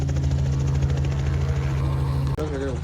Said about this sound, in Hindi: ये हेलीकॉप्टर देखो यहीं मंडरा रहा है तब से।